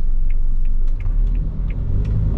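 A Toyota HiAce van engine running with a Bluetoothed WIND BOOSTER throttle controller set to race mode, a loud steady low rumble close by with faint ticking over it and no talk.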